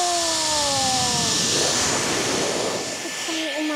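A Dyson Airstrait hair styler blows a loud, steady rush of air close by, with a roaring hiss and a faint whine that shifts slightly as it strengthens.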